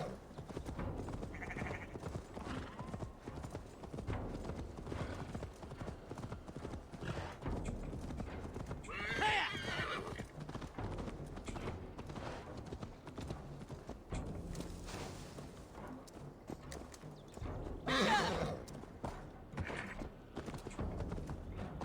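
A horse gallops in Assassin's Creed Valhalla, its hooves clip-clopping in a fast, continuous rhythm through the whole stretch, with brief louder bursts and little talk.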